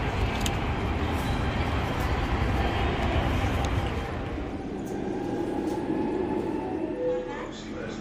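A Barcelona metro train rumbles loudly and steadily for about four seconds, then fades into a quieter hum with faint voices in the background.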